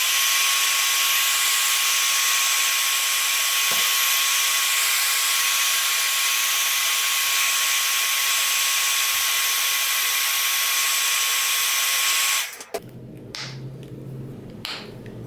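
A hair dryer runs at a steady, loud whine while heating action figure heads, then switches off abruptly near the end, leaving quiet handling noise.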